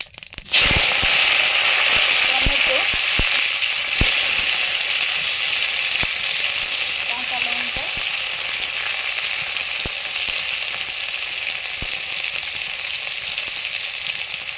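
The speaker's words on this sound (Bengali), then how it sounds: "সর্ষের তেল দিয়ে ফোড়নে দিলাম এলাচ তেজপাতা" Cardamom and bay leaf tempering in mustard oil, heard as a loud, steady sizzle and hiss that starts abruptly and keeps on with faint crackles and occasional pops, with no voices.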